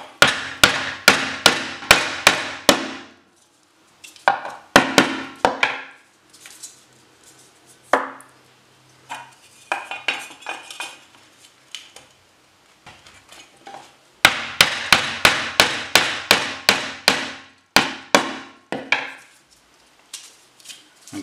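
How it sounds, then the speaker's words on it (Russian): Hammer blows drive a wooden block into a thin aluminium table leg in rapid, evenly spaced strikes. Two long loud runs frame scattered single knocks and quieter handling noises. "На данном этапе пока мы их забиваем."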